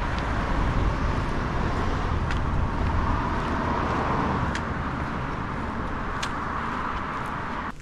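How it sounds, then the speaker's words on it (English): Cars pass on a suburban road near a wooded trail in Finland, a steady broadband roadway rumble that stays constant throughout, distant and continuous, with no voices. "and maybe you can hear the cars in the background."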